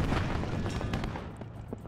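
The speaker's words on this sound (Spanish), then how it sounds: "Fijaos qué explosión" A short blast from the military strategy game Warno, a booming explosion with crackling gunfire trailing off into a fading rumble.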